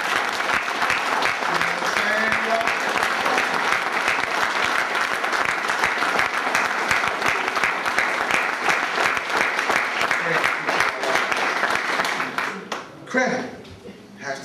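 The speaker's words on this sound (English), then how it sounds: "let's give her the real applause you really deserve" A church audience applauds and cheers continuously, loud and steady for about twelve seconds, then the clapping fades and a voice speaks.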